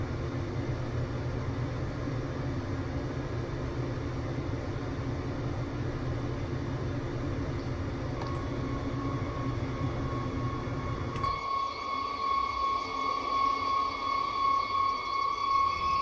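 A train braking toward a stop in Train Sim World Rapid Transit, with a steady low mechanical rumble. Partway through, sustained whining tones rise as the train slows.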